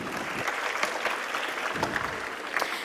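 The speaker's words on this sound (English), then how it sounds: "let's give a big round of applause to ourselves" Graduates at a dental sciences graduation ceremony applaud themselves, a steady, dense wash of clapping from a crowd sustained evenly throughout.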